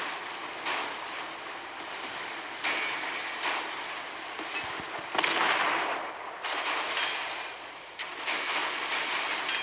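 Broadside cannon fire from a French warship, the Verdun, in the naval combat video game Naval Creed. Repeated heavy booming blasts land every second or two over a constant roar of battle noise.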